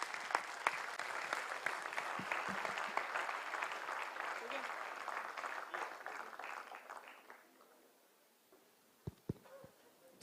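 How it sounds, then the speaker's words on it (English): A conference audience breaks into sustained applause, dense clapping for several seconds before thinning out and fading, with a few scattered claps at the end. "A big round of applause for all of you."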